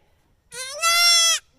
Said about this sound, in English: And this little brown one really screams, she's so loud.